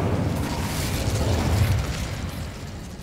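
The Incendio fire spell in Hogwarts Legacy, cast in a mine, gives off a loud, roaring burst of fire with low rumbling that holds steady and then eases off slightly toward the end.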